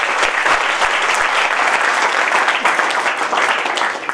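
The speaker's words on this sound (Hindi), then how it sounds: "एक बार फिर आपकी जोरदार ताली" An indoor crowd at an achievers' celebration claps loudly and continuously, with a few sharp, close claps standing out near the start before the applause eases slightly at the end.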